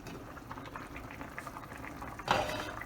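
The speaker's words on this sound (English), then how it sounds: "after it comes to a rapid boil" A pot of bone broth soup with vegetables bubbles at a rapid boil, a soft, steady close gurgle that turns louder and brighter near the end.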